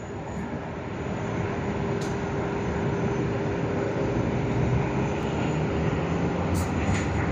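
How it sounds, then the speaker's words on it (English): An airliner arriving from Melbourne lands at Sydney Airport with idle thrust reversers, producing a loud, steady, broadband engine roar that continues throughout. "It's always great to see the idle thrust reversals."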